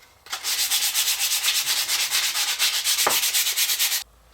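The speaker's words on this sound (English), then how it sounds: "give your incense burner or your stand or whatever you want to call it, give it a good sanding" Sanding a wooden incense holder by hand: steady, rhythmic back-and-forth rubbing strokes, close and fairly loud, running for about four seconds with no voices.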